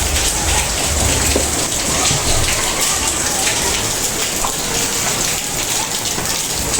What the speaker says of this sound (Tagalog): lakas sa ulan